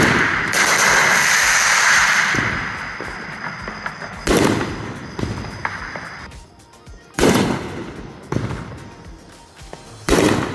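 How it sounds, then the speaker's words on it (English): Fireworks going off outdoors around midnight on the Fourth of July: a long crackling, booming stretch followed by several separate loud bursts and pops, some near and some farther off, with no talking. "So yeah, the fireworks being set off."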